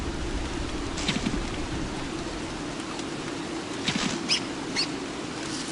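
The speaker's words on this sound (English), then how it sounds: "Oh no, rain." Steady rain hisses in the survival game Don't Starve, a constant wash of falling drops with a few brighter patters, and no voices over it.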